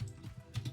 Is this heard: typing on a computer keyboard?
yes